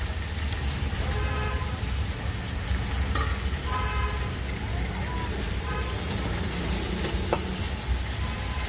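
Chicken sizzles in a pot with browned onions over a wood fire, a continuous moderate hiss with occasional stirring scrapes, while a voice talks and a car horn toots faintly in the distance.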